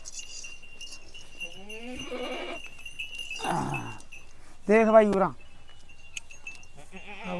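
Several Amritsari Beetal goats bleat close by in wavering, nasal calls, one loud and drawn out, with someone speaking briefly in between, at a livestock fair.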